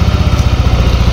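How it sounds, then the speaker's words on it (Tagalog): A Yamaha NMAX scooter engine runs steadily after starting, a close, loud, low idling putter with an even rhythm throughout. "Paandarin natin yung motor, so aandar siya."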